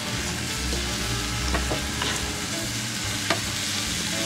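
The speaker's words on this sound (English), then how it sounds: "Hear that sizzle?" Chicken fajitas sizzle and crackle loudly in a hot skillet on a Yoder YS640 grill, a continuous hiss with occasional sharper pops and scraping, no talking.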